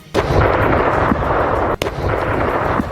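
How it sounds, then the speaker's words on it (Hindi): A missile strike explosion on a military site: a loud, sustained blast roars across the whole stretch, with a sharp crack partway through and heavy rumbling noise throughout, no voices. "उसकी मिसाइल हवा को चीरती हुई यूक्रेन के सैन्य ठिकानों पर जा गिरी, जिससे जोरदार धमाका हुआ।"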